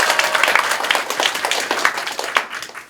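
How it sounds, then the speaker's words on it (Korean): Lively audience applause at the opening of a Jinbo Party by-election campaign office in Jungnang-gu, Seoul: dense, close clapping from a packed room that holds steady for three seconds with a few sharper claps on top. "따뜻한 격려 인사해주신 김용현 위원장님께 다시 한번 박수 보내주십시오."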